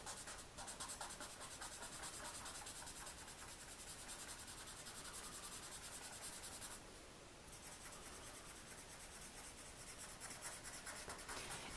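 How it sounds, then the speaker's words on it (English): A paper blending stump rubs and smooths colored pencil across a sheet of paper, a steady close scratchy friction that runs nearly continuously with one short pause midway. "And then get my paper stump again and start smoothing that out."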